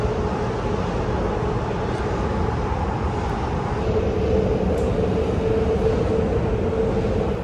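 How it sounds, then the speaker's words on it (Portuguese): A subway train ride heard from inside the car, a loud steady rumble and rolling roar with a sustained tonal hum, continuous throughout with no speech. "Pegar metrô de bicicleta é muito legal."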